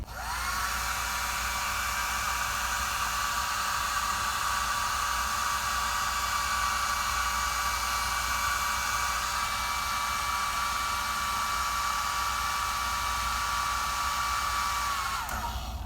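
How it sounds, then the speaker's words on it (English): A hair dryer blows steadily at full power, a loud continuous whooshing whine that starts abruptly and cuts off near the end. "when I turn this on, air is going to come out of my blow dryer"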